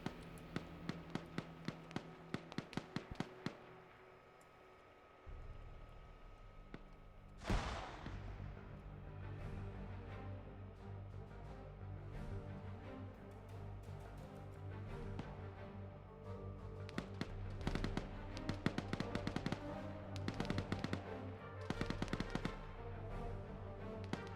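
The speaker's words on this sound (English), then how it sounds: "More artillery landing on these guys because they're just standing still." Artillery explosions in the Northern Winds 2 video game: a scatter of sharp cracks, then a big booming blast, followed by a low rumble and further volleys of rapid bangs toward the end.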